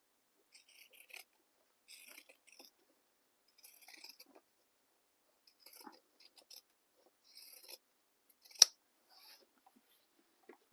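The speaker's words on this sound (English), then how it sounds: "I snip down towards the seam." Scissors snipping a fabric seam allowance on a handbag give a series of small, faint, close cuts spread across the quiet, one sharper click standing out near the end.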